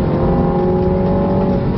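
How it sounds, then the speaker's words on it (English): A 2015 Mini Cooper four-door with automatic transmission gives a steady, loud exhaust snarl while driving, a continuous engine drone heard close up with no talk. "Maybe you can hear that nice little exhaust snarl."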